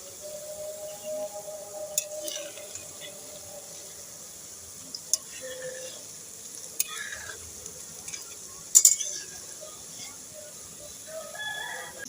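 Nikuti sweets fry quietly in oil with a faint sizzle, broken every few seconds by sharp scrapes of a spatula, while a rooster may crow in the distance.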